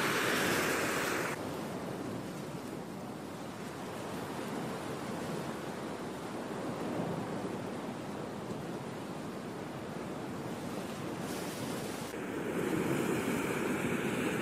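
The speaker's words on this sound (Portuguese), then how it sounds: "Olha como que tá o mar aqui, ó." Sea surf washes against slippery rocks on the coast at Cabo Frio, a continuous loud roar of breaking waves with wind buffeting the microphone and swells rising near the end.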